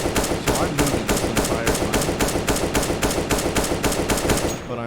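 Rapid rifle fire in the CSGO video game while counter-strafing, a loud, evenly spaced burst of about a dozen sharp shots ringing out one after another.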